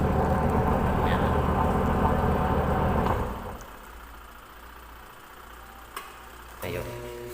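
Washing machine motor running without reversing, a steady loud hum with mechanical buzz for about three seconds, then cut off, leaving faint low residual hum and a couple of small clicks.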